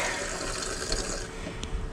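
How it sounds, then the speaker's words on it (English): Water runs steadily from an RV bathroom sink faucet into the sink, a continuous hissing splash that stays even throughout. "Turn that sink back on."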